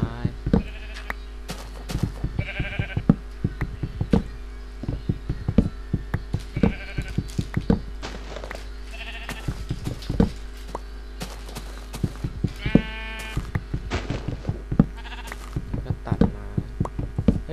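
Sheep bleating in the video game Minecraft, repeated short nasal bleats scattered among sharp clicks and game-step knocks over a steady low hum, with a voice talking intermittently.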